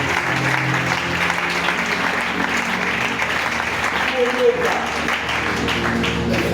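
A church congregation applauds to acclaim the Lord, steady sustained clapping from many hands filling the room at close range, with no voices rising above it.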